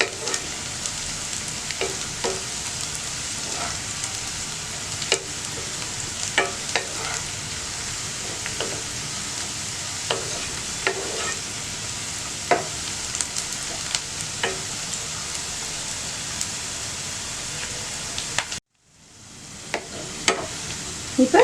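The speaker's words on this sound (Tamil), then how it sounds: "இப்போ வெங்காயம் நல்லா வதங்கிடுச்சு." Onions sautéing in a pan for a fish masala, a continuous soft frying sizzle broken by repeated close clinks and scrapes of a stirring spoon, briefly cutting out near the end.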